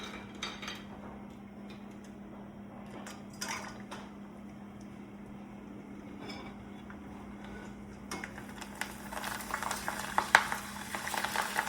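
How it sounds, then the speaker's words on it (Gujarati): Bhungla fryums, a Gujarati snack, frying in hot oil in a home kitchen: a steady low sizzle with a faint hum beneath, growing into denser, louder crackling toward the end. "મેં અહીંયા તેલ ગરમ કરવા મૂકી દીધું હતું, તો ચાલો આપણે હવે ભૂંગળા તળી લઈશું"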